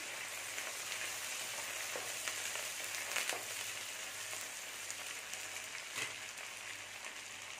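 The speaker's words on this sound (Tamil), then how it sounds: "கருவேப்பிலை ஒரு கைப்பிடி அளவு போட்டுக்கிறேன் நான். இதையும் சேர்த்தே வதக்கிடலாம்." Onions and a handful of curry leaves sautéing in a pan for Chettinad chicken gravy, a continuous soft frying hiss with occasional stirring taps, fairly quiet and even.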